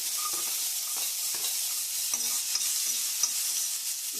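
Garlic stirred and fried in a kadai over low flame while making a South Indian mutton gravy, giving a steady broadband sizzle with soft, irregular scraping taps of the stirring spoon, close and alone.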